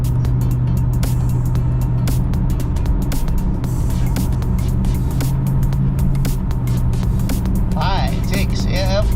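Interior drone of a 2001 Mercedes ML430 W163 with a transmission that had been in limp mode, driving steadily as it shifts through the gears, with loud continuous engine and road hum and occasional voices.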